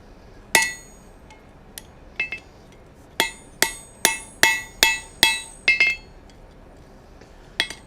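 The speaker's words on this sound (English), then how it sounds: "hammer that out real quick here." Ringing hammer blows on metal against an anvil while forging a Z-shaped tool with fullers: a few scattered strikes, then a steady run of about eight sharp, bright clangs, each with a short metallic ring.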